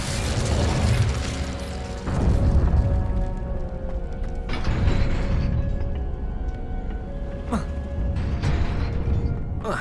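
Incendio fire spells cast repeatedly in Hogwarts Legacy, landing as bursts of flame and pops over a busy bed of game effects and music, with fresh strikes near 2, 4.5 and 7.5 seconds.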